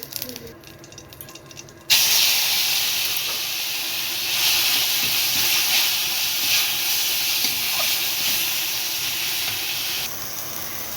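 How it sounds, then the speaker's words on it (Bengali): Whole cumin seeds hit hot white oil in a kadai, starting a sudden loud hissing sizzle that holds steady and bright with small spits and crackles, after a quieter opening. "কড়াইতে দিয়ে দিয়েছি সাদা তেল, এর মধ্যে দিয়ে দিচ্ছি গোটা জিরে।"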